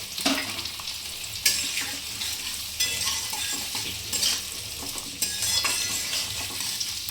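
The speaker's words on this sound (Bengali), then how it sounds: "এটা কিন্তু ফ্রাই হবে একটু হালকা হালকা ফ্রাই হবে এরপর আমি ক্যাপসিকামটা দিয়ে দিচ্ছি" Capsicum frying in a pan for restaurant-style chilli chicken, giving a steady close sizzle with repeated spatula scrapes and stirring knocks against the pan, and no talking.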